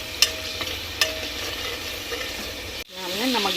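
Rice roasted in a pan for matar pulao, with a soft sizzle and a few scraping stirs, close and moderate, then an abrupt cut to a brief different sound.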